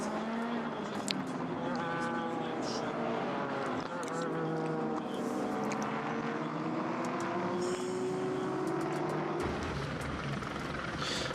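A race car at the 2014 24 Hours of Le Mans whines steadily, its engine pitch rising and sliding as it revs, continuous and fairly loud, with a muffled voice faintly underneath.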